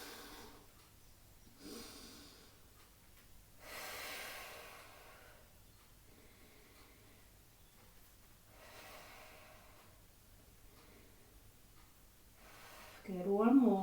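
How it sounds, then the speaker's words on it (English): Slow, deep breaths are taken while resting back on the heels in a Pilates stretch. Several soft, airy inhales and exhales come spaced seconds apart in a quiet room, and a voice rises briefly at the close. "just take a few big breaths in there"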